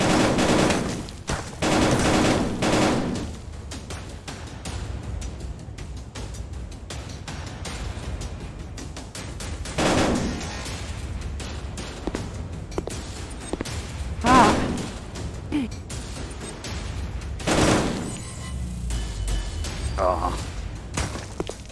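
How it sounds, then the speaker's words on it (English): Rapid gunfire bursts from a VR shooter game ring out in short volleys with thuds, repeating across the stretch while players talk and shout over the action. "I was looking, shooting down at your teammates."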